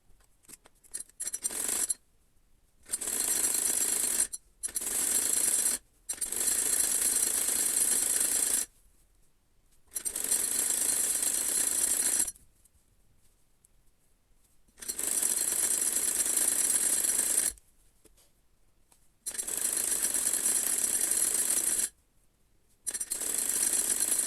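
A sewing machine stitching hijab fabric runs in repeated bursts of several seconds each, separated by short silent pauses, a steady close whirring that starts and stops.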